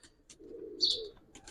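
Giribaz silver pigeon cooing on a rooftop loft, one soft rolling coo swelling in the middle and fading, with faint chirpy bird sounds at the start and end.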